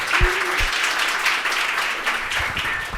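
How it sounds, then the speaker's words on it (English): Conference audience clapping to welcome a speaker, a loud, continuous wash of applause throughout with a few sharp low thumps and faint voices mixed in. "give a round of applause for Tim Hammond"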